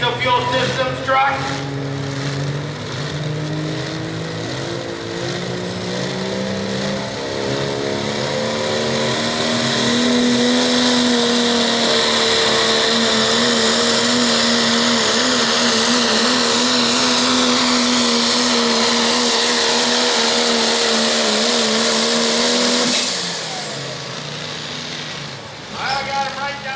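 A stock diesel pickup truck engine roars under heavy load during a truck pull at a nationals event, a loud sustained drone that builds and holds for over twenty seconds before cutting off abruptly.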